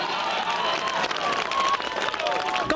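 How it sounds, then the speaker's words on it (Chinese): Crowd applause and cheering at a Wimbledon tennis match after match point, a dense, steady wash of clapping from a large audience with a commentator's voice speaking over it. "高举双手享受掌声"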